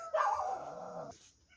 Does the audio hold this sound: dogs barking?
yes